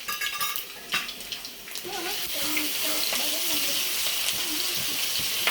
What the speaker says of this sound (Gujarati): હવે એને થોડુંક સાંતળવા દઈશું.